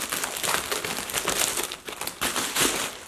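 Crinkly paper packaging rustles and crumples up close in quick bursts as a premium handbag is unwrapped, with nobody talking.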